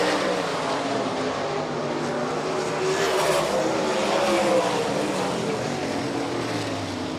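Race cars roaring around the dirt oval at Rapid Speedway during a Hobby Stock or MSTS 360 heat, a dense, loud, continuous engine drone with shifting pitch as the field passes.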